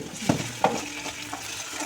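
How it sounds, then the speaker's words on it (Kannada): Ginger garlic paste fries in a pan for a chicken liver fry, a soft steady sizzle broken by a couple of quick stirring scrapes of a spoon, close and fairly quiet. "ಸ್ವಲ್ಪ ಚೆನ್ನಾಗಿ ಫ್ರೈ ಆಗಬೇಕು"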